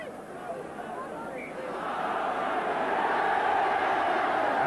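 Crowd of about 15,000 at a 1982 Widnes v Leeds rugby league Challenge Cup tie, a broad, steady murmur that swells louder midway through and holds, with no clear voices on top.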